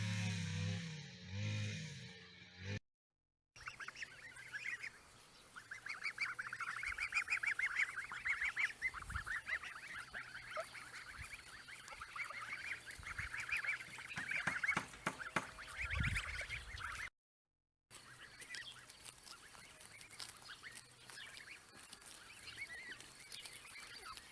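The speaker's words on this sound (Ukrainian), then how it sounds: "гусочки вже почти напаслися" A flock of geese honks and cackles continuously nearby, overlapping calls rising and falling, with a couple of brief silent gaps.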